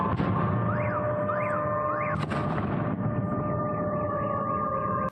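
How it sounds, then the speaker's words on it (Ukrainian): A wailing air raid siren rises and falls repeatedly at night in Russia's Belgorod region, with a sharp distant explosion boom partway through, all over a constant noisy background. "дуже добре чути, як виє сирена та вибухає за вікном"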